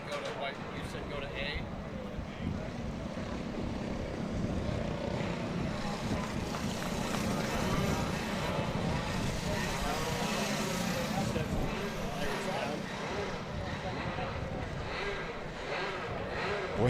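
Kid karts race at a track shootout, their small engines buzzing and droning continuously at a distance while an announcer talks over them throughout.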